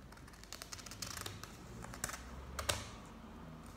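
Scissors cutting away the side bits of paper for a fortune teller, a quick run of small crisp snips and rustles up close, with no voices.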